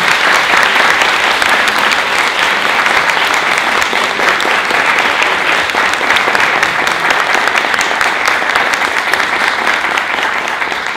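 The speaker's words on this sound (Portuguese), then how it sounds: "Então eu gostaria de pedir uma salva de palmas para todos nós." An audience at an academic lecture event gives long, sustained applause. Many hands clap in a dense, even wash that stays loud and steady for about eleven seconds.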